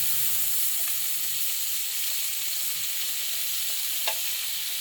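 Hotdog frying in butter in a pan, a steady close sizzle and hiss throughout with a faint occasional stir or tap of a utensil.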